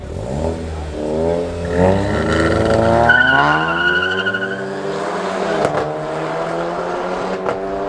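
A Renault Clio RS and a VW Golf 7 GTI rev up and accelerate hard in an illegal street race in Johannesburg, pitch climbing steadily, with a tire squeal and the roar fading slightly as they pull away.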